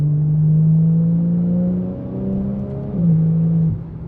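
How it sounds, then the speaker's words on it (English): A 992.1 Porsche 911 Turbo S engine at full throttle with turbos boosting, a loud, close, steady rising drone that dips and climbs again through gear changes, with no talking. "that right there was full throttle for 1 second. And you feel the turbos boosting"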